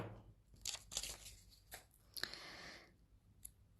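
Paper being cut into shapes for a children's craft, a few close crisp snips and tearing rustles in quick bursts, then a brief crinkle, with no talking.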